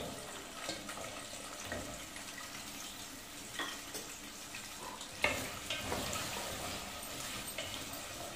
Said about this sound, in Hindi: सबसे पहले हम ये जो अरबी हमने धो के रखी है इसको हम फ्राई करेंगे